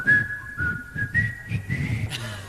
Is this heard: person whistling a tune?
yes